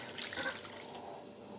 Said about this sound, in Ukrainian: наливаємо молочко.